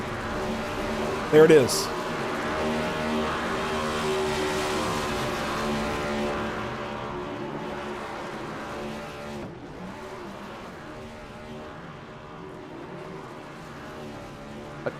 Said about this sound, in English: Gonna do some burnouts, maybe.